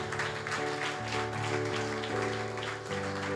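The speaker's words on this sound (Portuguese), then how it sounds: "Vamos aplaudir a Jesus Cristo" A church congregation applauding together, a dense, steady wash of clapping that stays loud and even throughout, with a sustained musical tone underneath.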